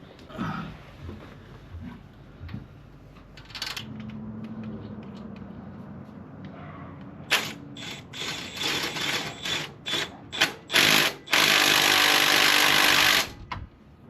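A power tool drives bolts on the engine of a 2010 Subaru Forester during a timing belt reinstall, with a low hum, then a series of sharp close bursts and a longer buzzing run near the end.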